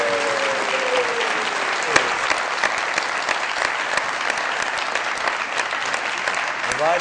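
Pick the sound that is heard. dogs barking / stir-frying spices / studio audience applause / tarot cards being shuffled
studio audience applause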